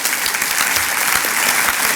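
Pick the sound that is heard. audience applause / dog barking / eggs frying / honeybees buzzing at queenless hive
audience applause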